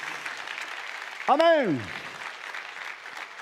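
Congregation applauding for the King of Kings during a church service, a steady wash of clapping under a man's loud spoken exclamation.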